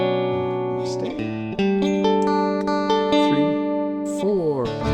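Guitar picking the opening bars of a song, with clear sustained chord tones, individual plucked notes and a few slides, played solo and close up without any talk.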